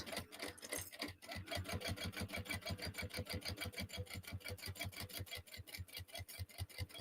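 Sewing machine stitching a seam on a crossbody bag, a fast steady run of close, even mechanical stitch beats continuing throughout at a constant loud level, with no talking.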